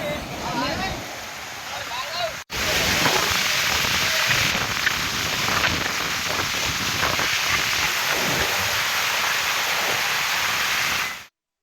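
Steady heavy rain falls at a lake where people are fishing, a dense continuous rush that starts abruptly after a short stretch of quieter sound and then holds loud and even.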